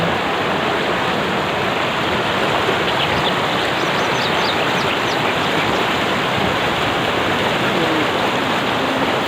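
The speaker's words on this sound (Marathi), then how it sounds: "मैयेचा खळखळ आवाज आपल्याला ऐकू येतो" The Narmada River rushes through the rocky Sahastradhara rapids near Maheshwar, a loud, steady, dense gurgling roar of churning water that fills the whole stretch with no voices.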